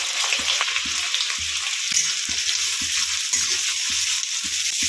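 Onions fry in hot white oil in a wok on a gas stove for a capsicum chicken dish. A loud, close, continuous sizzle runs throughout, with regular soft thumps underneath.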